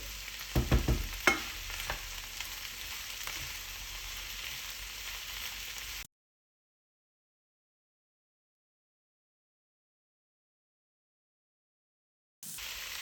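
Chopped peppers and chives stirred in a hot pan for an empanadilla filling: a steady sizzle with a few scraping utensil knocks near the start, cutting to silence midway before the sizzling briefly returns.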